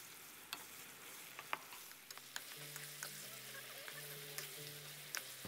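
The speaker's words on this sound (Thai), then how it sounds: "แล้วเราจะผัดให้สับปะรดของเราสุกเลยนะครับ" Pineapple being stir-fried in a pan for a Thai sweet-and-sour dish gives a quiet, steady sizzle with scattered light clicks and scrapes, and a low hum runs underneath.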